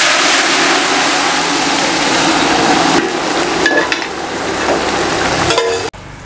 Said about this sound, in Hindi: इसके अंदर थोड़ा सा चम्मच घुमा लें ऐसे अच्छे तरीके से